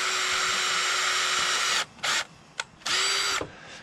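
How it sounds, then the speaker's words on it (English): A power drill boring a 3/16-inch hole in sump pump pipe whirs steadily at high speed, then stops and restarts in a few short bursts before a final run. "we need to drill a 3/16-inch hole for pressure relief."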